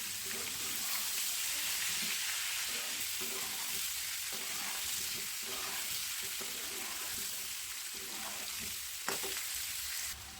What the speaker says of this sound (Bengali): এবার এই সেদ্ধ আলুগুলোকে তেলের মধ্যে হালকা করে ভেজে নেবো